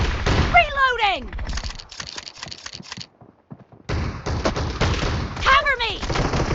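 Shotgun fire in a team-based shooter video game, heard as sharp broadband blasts in clusters with a brief lull midway, mixed under ongoing game voice callouts.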